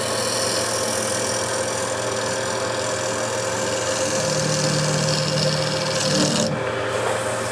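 A woodturning lathe hums steadily while a gouge shapes the outside of a wooden bowl, a continuous close mechanical drone with raspy cutting texture, alone without talk.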